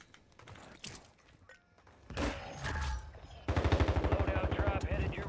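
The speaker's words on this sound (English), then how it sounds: "they're shooting" Gunfire from a Call of Duty match, first scattered shots, then heavier bursts, ending in a fast, steady automatic rattle that grows louder and denser, with faint game noise underneath.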